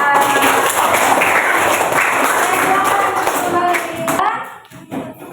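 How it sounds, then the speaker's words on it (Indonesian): Classroom applause for Teti and Jara, many hands clapping loudly and continuously before tapering off into a few scattered claps and room noise. "sudah tepuk tangan buat Teti dan Jara"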